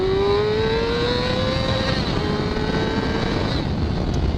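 A motorcycle engine held near the rev limiter, a loud, sustained high-pitched drone whose pitch rises slowly and then stays level, with wind buffeting in the background and no voices.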